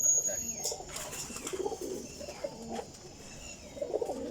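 Low rolling coos from Teddy Golden flying pigeons come in short repeated bursts nearby, while a voice talks intermittently over the birds.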